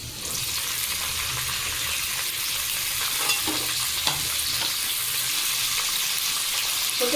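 Yardlong beans and carrots fry in a large wok, a dense, steady sizzle with close stirring scrapes running throughout.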